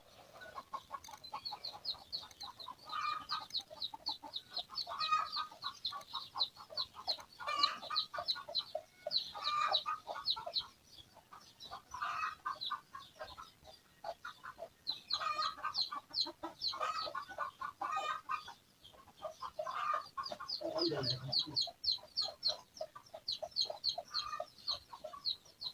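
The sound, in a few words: hen and chicks clucking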